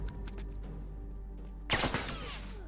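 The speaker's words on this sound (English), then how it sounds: "Watch it, he's got a shotgun." Gunfire in a multiplayer shooter, with a rattle of distant shots early on and then one loud, close blast near the end.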